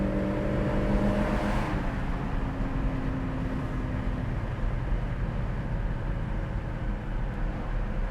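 A 1966 Ford Mustang with a 289 engine cruises at 60 mph. The engine drone and road and wind roar from inside the car hold steady and loud throughout, with no talking.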